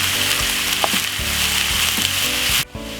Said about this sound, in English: So now I have this frying for about 6 minutes.